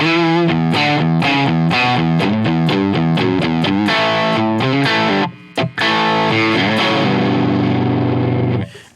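Heavy distorted electric guitar chords, played low on the guitar, chug in a rapid, rhythmic pattern, pausing briefly before a final sustained, ringing chord.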